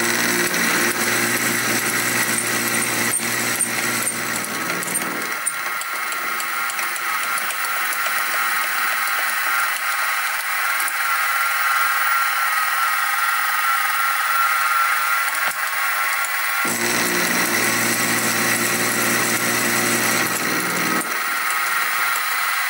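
Continuous grinding whine of a milling machine cutting metal while making a carriage stop for a Sieg SC4 lathe, with a lower motor hum dropping out midway and returning, loud and close.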